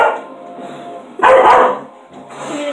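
Dogs bark in short, loud bursts close by, with a strong cluster of barks in the middle and another starting near the end, and no talking over them.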